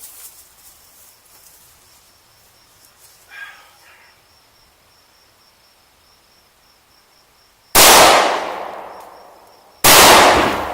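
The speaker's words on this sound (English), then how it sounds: "we're going to shoot the ARX non-expanding round first, and then the Civil Defense next" An LC9 pistol firing ARX +P ammunition: after several seconds of near silence with faint ambient noise, two sharp, very loud gunshots crack about two seconds apart, each ringing briefly.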